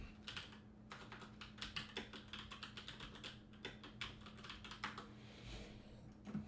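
Rapid clacking of a computer keyboard, uneven bursts of keystrokes close to the mic, steady typing with brief pauses and no talk.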